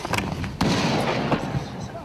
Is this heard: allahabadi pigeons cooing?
no